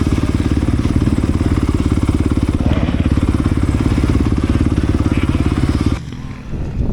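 A 2020 Yamaha YZ250FX dirt bike engine runs in first gear with a loud, steady, rapid thumping exhaust close by. It cuts off abruptly near the end, leaving quieter rumbling behind.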